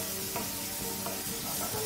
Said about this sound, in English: And I'm frying that at high heat.